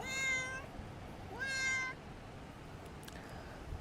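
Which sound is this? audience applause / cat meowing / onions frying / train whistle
cat meowing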